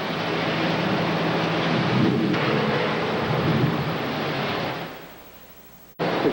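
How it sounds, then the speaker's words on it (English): Heavy rain on the island of Kauai, Hawaii, a dense, loud steady hiss of downpour with a deeper rumbling undertone that gradually eases toward the end before an abrupt cut. "Rain in Kauai. Something the island is famous for, having lots of rain."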